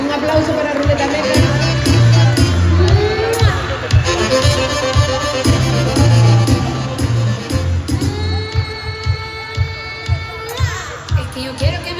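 Crowd cheering, shouting and applauding for the winners of a carnival costume contest in O Grove, with children's shouts and loud festive music playing over the noise.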